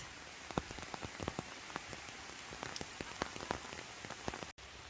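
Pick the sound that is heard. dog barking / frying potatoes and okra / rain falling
rain falling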